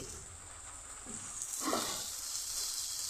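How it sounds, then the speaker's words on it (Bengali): Vegetables frying with cumin, chilli and turmeric powder and salt for a pointed gourd curry, a soft steady hiss and sizzle that grows a little louder partway through, with no talk. "হলুদ গুঁড়ো আর পরিমাণ মতো নুন দিয়ে আমি একটু ভেজে নিচ্ছি"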